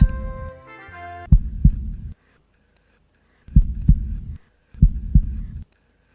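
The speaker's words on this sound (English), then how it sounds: "this is the sound the heart makes as it beats" A human heart beats in paired thumps, lub-dub, in three close, heavy groups separated by short silences; the first group sits under a brief tonal chime.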